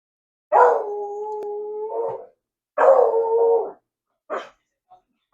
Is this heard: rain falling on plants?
no